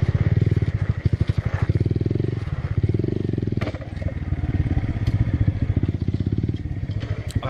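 A motorcycle engine throbs with a rapid, loud pulsing beat that rises and settles a little as the bike revs. No voices are heard over it.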